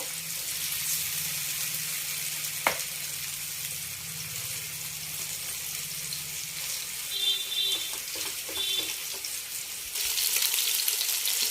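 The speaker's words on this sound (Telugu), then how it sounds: "మనం ఇట్లా సిమ్లో పెట్టుకొని చక్కగా వేయించుకుందాం" Food fries in oil in a pan over a low flame, giving a soft, steady sizzle that continues evenly throughout with a few faint clinks.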